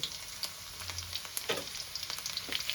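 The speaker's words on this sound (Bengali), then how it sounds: "আমি প্রথমে রসুন কুচিটা দিয়ে দেবো।" Chopped garlic hits hot oil for restaurant-style noodles, giving a soft continuous crackling sizzle with scattered pops, fairly quiet and close, no voices.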